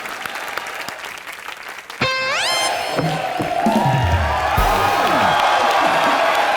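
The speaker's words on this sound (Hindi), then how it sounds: "एक बार जोरदार तालियां हो जाए।" Studio audience at a Hindi TV comedy show bursts into loud applause with cheering, joined partway by a rising musical sting and sound effects, the clapping continuing strongly to the end.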